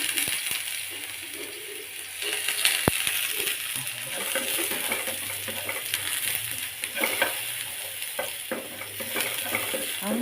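Garlic frying in a little oil in a pan for a home-cooked Filipino vegetable dish, a steady bright sizzle with occasional scraping stirs and small clicks that holds for the whole stretch without talk.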